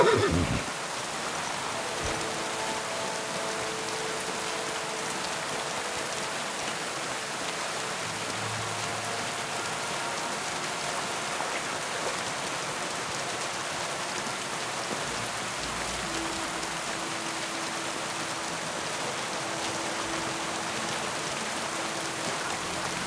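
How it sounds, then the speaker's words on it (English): Rain in the medieval role-playing game Kingdom Come: Deliverance II falls as a constant, dense patter on surfaces throughout, with a horse heard at moments behind it and no talking. "Don't mind the rain."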